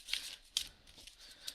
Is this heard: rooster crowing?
no